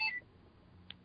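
A phone gives a short, faint electronic beep at the start, followed by near silence and a tiny click.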